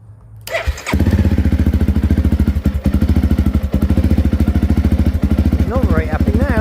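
A Honda CRF motorcycle with a charging fault catches and runs after a brief quiet start, its engine chugging loud and close with an uneven, stumbling pulse as it misfires and struggles to stay running, the note wavering near the end.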